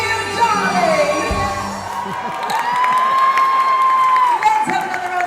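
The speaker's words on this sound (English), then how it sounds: "Let's have another round of applause for our brave, handsome gentleman" A theme-park show audience at Universal Orlando applauds and cheers, a broad crowd roar with scattered whoops and children's shouts, while an amplified performer's voice carries over the top with sung or sustained tones.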